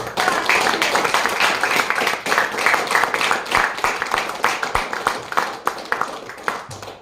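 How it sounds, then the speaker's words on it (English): Applause from an audience at a speakers forum, a dense, sustained round of clapping that carries steadily through the whole stretch and thins slightly toward the end. "let's have a big round of applause again"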